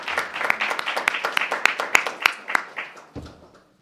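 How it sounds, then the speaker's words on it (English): Applause from a small group at a board of education work session, a few seconds of close, fairly sparse clapping that fades out quickly. "Let's give them all a round of applause,"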